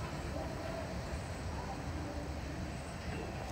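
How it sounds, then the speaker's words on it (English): Long CSX freight train passing by: a steady, continuous rolling rumble of wheels and cars that stays level throughout, with no break in the sound. "Man, they make these trains long anymore."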